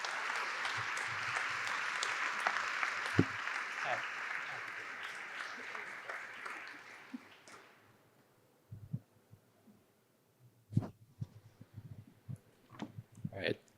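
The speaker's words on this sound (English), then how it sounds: "give a round of applause for Jojo, our moderator this evening." Audience applause fills a hall at an evening panel event on Indigenous knowledge and climate change, steady and dense for about seven seconds before fading to silence, followed by scattered sharp claps and faint talk.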